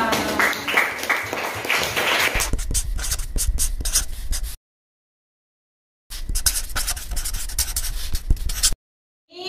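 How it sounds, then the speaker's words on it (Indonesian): Classroom of pupils applauding: a loud burst of mixed clapping and rustle, then brisk rhythmic clapping in quick patterned beats. It breaks off into a silent gap and then resumes with the same rhythmic clapping before cutting out. "Tepuk tangan untuk kita semua."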